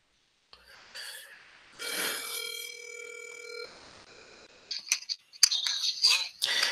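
A phone line buzzes as a call goes out to a cell phone number, with a long sustained ringback tone followed by clicks and brief electronic chirps and noises as the line connects.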